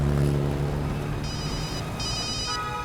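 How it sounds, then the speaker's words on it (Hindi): A phone rings with bursts of high electronic tones over a low hum, repeating in short pulses. "किसका फोन है सर?"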